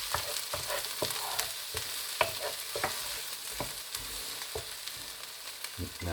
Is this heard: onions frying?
yes